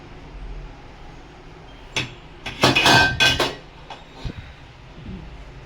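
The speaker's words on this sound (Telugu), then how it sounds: "ఇప్పుడు మనం జాగ్రత్తగా ఈ గిన్నెని తీసేద్దాము" A bowl is lifted out of a cooking pot in a kitchen while making instant junnu: a brief knock, then a loud cluster of metallic clanks and scrapes, followed by a few lighter taps.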